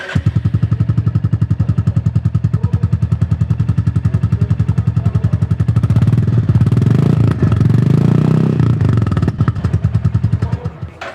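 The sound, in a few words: Royal Enfield Classic 350 motorcycle starting, exhaust note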